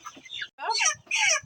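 Hen on a poultry farm clucking in three short, raspy bursts, close and fairly clear, with a brief pause after the first call.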